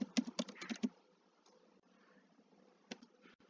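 Computer keyboard typing while writing web page code, a quick burst of crisp close keystrokes at the start, then near quiet, with a few more isolated key taps later.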